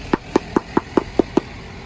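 Seven evenly spaced hollow knocks on a Monthong durian's husk to check ripeness, crisp and close, with a short pause between each and nothing else audible.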